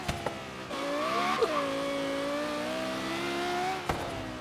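A Lexus LFA on its stock engine revs hard and holds a high, steady, screaming wail for several seconds, with brief sharp pops at the start and end.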